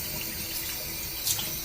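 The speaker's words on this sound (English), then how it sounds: "We're gonna run some more clean water through it" Clean water runs steadily from a tap to rinse out a PC cooling radiator loop, a close hissing flow with one brief splash near the end.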